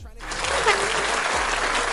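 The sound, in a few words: round of applause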